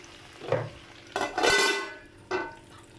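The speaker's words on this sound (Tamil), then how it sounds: "பாருங்கள், இப்போது நல்லா வறுத்துக்கிட்டே இருக்குது." Potatoes frying in a pan for a Tamil potato fry, salted and cooked a couple of minutes, giving a few short bursts of sizzling and stirring clatter, close and fairly quiet, with no voices.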